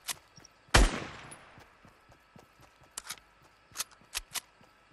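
Gunfire in Fortnite Battle Royale: one loud, sharp shot with a decaying tail, followed by several fainter, scattered distant cracks.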